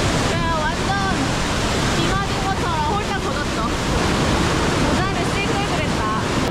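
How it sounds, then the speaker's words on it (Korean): Loud, steady rushing water roars without pause from a nearby waterfall in Plitvice Lakes National Park, Croatia, with voices faintly audible beneath the spray. "진짜 폭포수가 비 내리는 것 같아요"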